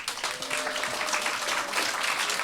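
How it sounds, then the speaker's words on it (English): A roomful of people at a folk music show applauds continuously, a thick, even patter of clapping that holds steady throughout. "Audience, team 3. Round of applause."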